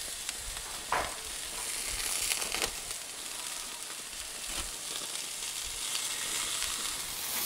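Steaks brushed with flavoured oil sizzle on a barbecue grill plate, a steady crackling hiss close by with a few brief knocks and scrapes, no speech.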